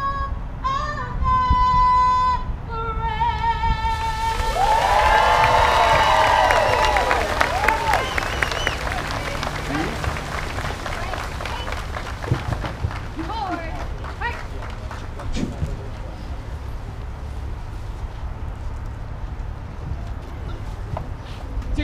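A crowd at a Walmart grand opening in Kissimmee, Florida, breaks into applause and cheers as a sung anthem ends. The clapping swells, then thins out over the following seconds, with voices mixed in.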